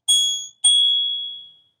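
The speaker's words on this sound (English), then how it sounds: "They do include a bell with the bike," The bell on a Dahon Unio E20 folding mid-drive eBike rings twice, bright and fairly loud, the second ring sustaining and fading out slowly.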